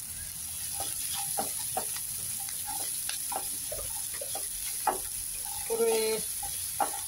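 Sliced large onions with a little salt sauté in a hot pan for spicy mushroom sukka, a steady sizzle under sharp, scattered scrapes of a stirring spoon, close up, with a brief spoken word.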